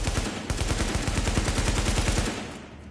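M60 machine gun from the video game The Division firing continuously on a firing range, a loud rapid automatic burst of evenly spaced shots that stops near the end.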